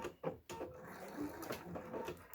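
A sewing machine back stitches at the end of a seam while making a minimalist wallet, with a rapid, uneven mechanical clatter in short bursts, fairly faint and close, with no speech.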